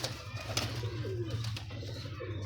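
Pigeons kept for sale coo softly at close range, a low steady murmur with a few faint chirps, without talk.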